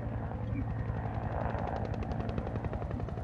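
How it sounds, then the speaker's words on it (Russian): A helicopter flies in the video game Dead Rising, its rotor beating in a steady rapid chop over a low engine drone, moderately quiet and with no talk. "вот летит ебучий вертолет"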